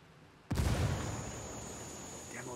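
A frag grenade detonates in the Ghost Recon Wildlands shooter game as a sudden, sharp blast that lands after a quiet stretch, then rolls out into a long, fading rumble.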